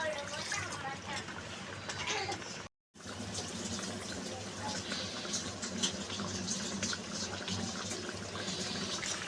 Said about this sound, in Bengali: থালাটাও ধুয়ে একটু জল দিয়ে দিচ্ছি